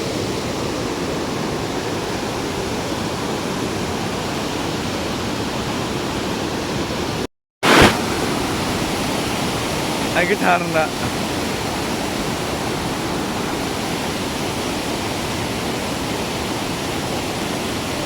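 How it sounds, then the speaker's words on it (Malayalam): A waterfall roars continuously and loudly nearby, a dense unbroken rush of water, briefly cut out once, with a faint voice barely surfacing above it. "കുത്തിയൊലിക്കേണ്ട ഒച്ച എൻ്റെ സൗണ്ട് കേൾക്കുന്നുണ്ടാവില്ല"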